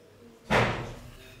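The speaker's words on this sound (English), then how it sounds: "Jeez, almost slapped my door off." A door slams shut once, a sudden loud thud close by that dies away over about a second, with no talking.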